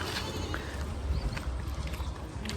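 Goat bleating outdoors while a Labrador watches it during behaviour training; a continuous broadband bleat-like sound runs steadily over low rumbling background throughout, fairly loud and alone, with no talk.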